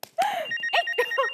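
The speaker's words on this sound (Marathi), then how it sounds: "तुझ्या मोबाईलवर मला फोन येतोय आनंद" A mobile phone rings with an incoming call, a quick run of bright electronic ringtone notes sounding close and clear, with no talk over it.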